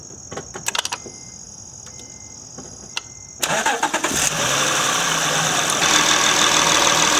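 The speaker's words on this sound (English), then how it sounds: "we'll start the vehicle, apply vacuum, and see if it holds." An Acura car is started during an engine mount test: a high whine and a few clicks and cranking bursts, then the engine catches and settles into a steady, close idle.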